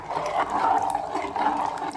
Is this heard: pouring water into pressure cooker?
yes